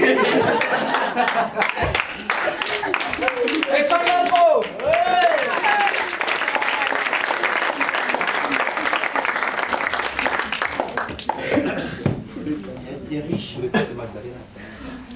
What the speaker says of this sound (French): On applaudit le poulet tandoori.